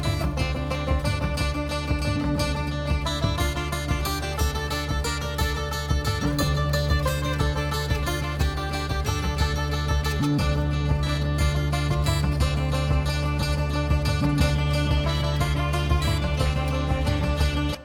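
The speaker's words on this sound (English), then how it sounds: "what you're hearing there is a violin part running through some distortion pedals." A violin part fed through distortion pedals, a dense, buzzy and saturated sustained tone layered into a full soundtrack mix, continuous and loud with no pauses or talk.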